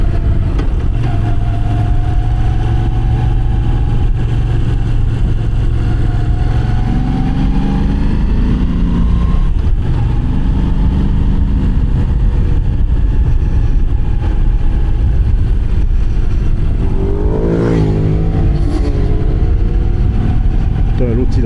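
A Moto Guzzi V9 motorcycle rides along a mountain road, its engine a loud continuous drone with rising and falling revs, mixed with wind rush and a voice talking over it.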